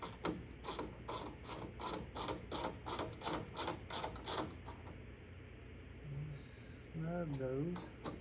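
A hand ratchet fitted with a 10mm socket snugs window clips on a Chevy S10 door, giving a rapid run of sharp clicking bursts up close for about five seconds, then quieter handling noise and a brief squeak.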